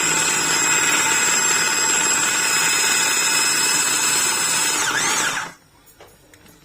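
An electric mixer grinds flour for couscous at high speed, a loud, continuous whining roar that runs for several seconds, then cuts off abruptly, leaving a few faint clicks.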